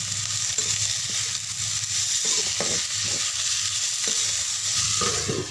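Potatoes for an Assamese potato fry sizzle steadily in a pan while a utensil stirs them, scraping at a regular pace of roughly one stroke every half second, close and continuous with no talking.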